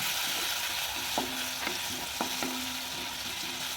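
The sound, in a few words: frying and stirring chopped garlic until golden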